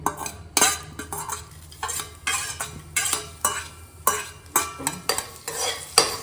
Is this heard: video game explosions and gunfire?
no